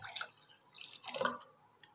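Water poured into a bowl to make tangy fuchka water for Kolkata-style pani puri, a few light splashing and dripping bursts at close range in a quiet kitchen.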